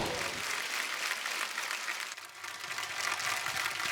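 Sustained, dense applause from a studio audience at a comedy talk show greeting a rapper, a steady wash of clapping that dips briefly midway and swells again, with no talk over it.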